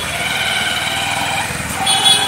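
A Honda motorcycle engine runs steadily with a low, even idle-like putter as the bike is ridden off for a trial after its first service, staying fairly loud and constant, swelling slightly near the end.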